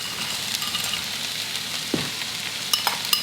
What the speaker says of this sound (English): now I'm going to add the zucchini, which we are going to cook with the peas